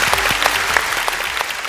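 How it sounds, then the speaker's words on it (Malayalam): A studio audience at a comedy show claps loudly and close in a brisk burst of applause, with quick overlapping hand claps filling the whole short moment and no talk over it. "കൈയടിച്ച് പാസ്സാക്കൂ."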